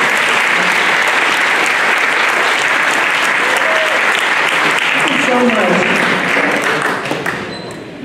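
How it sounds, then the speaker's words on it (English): Loud, sustained applause from a crowd at a Congressional Gold Medal ceremony for Chinese American WWII veterans in Fresno, dense and continuous, with voices mixed in, tapering off at the very end. "Let's give a big round of applause."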